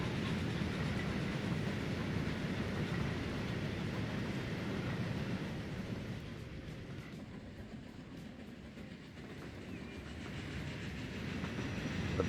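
Steam trains running along the line in the railway game Transport Fever 2, a faint, steady rumble and rolling wheel noise that swells and dips slightly throughout, with no voices.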